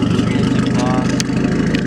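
A 5.3 V8 swapped into a Nissan D21 idles through a 3-inch straight-pipe exhaust, a steady low rumble running throughout with someone talking over it.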